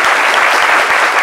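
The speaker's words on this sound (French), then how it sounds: "Applaudissements encore bien fournis pour l'accompagner." Sustained applause from a studio audience on a midday television programme, dense and steady throughout without any voices on top.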